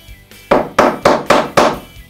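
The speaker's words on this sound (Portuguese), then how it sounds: "você quer alinhar alguma coisa com o martelo, dar umas batidinhas ali para alinhar" Hammer tapping on wood in a workshop lesson, five evenly spaced sharp knocks, close and loud, with a short gap between each strike.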